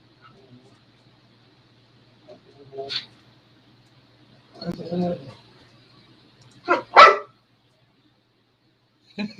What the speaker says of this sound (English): She is barking at me because I won't throw her freaking toy